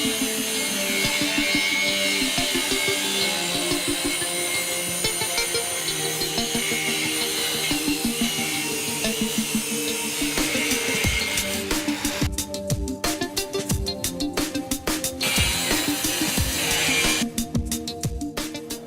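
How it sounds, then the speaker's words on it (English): An angle grinder cuts through rectangular steel tube in a boilermaking workshop, a loud continuous whining drone that shifts in pitch as the disc bites, with harsher, choppier stretches near the end. "I'm going to use a grinder to cut the rectangular tube"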